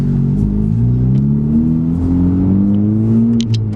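Inside a Honda Civic Type R fitted with an MBRP exhaust, windows up, accelerating up an on-ramp: a loud, steady engine drone rising smoothly in pitch through the gear, with no talking.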